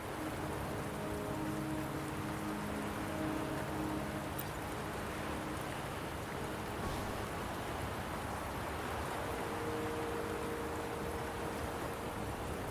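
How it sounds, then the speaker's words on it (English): Steady rain pours in the video game Wuthering Waves, a dense continuous hiss of drops with faint tonal music lines drifting underneath. "Don't worry, the rain won't last much longer."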